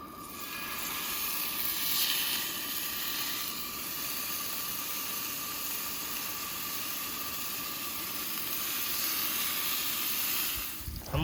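Steaks searing in a hot pan at a campsite, a steady, close sizzle and hiss that holds at an even level for several seconds before cutting off abruptly at the end.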